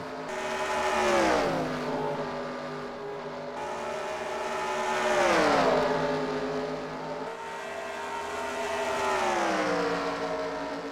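Race cars lapping an oval track in a Kentucky race, engines swelling and fading in three passes as cars roar by at moderate distance, the pitch rising then dropping with each pass.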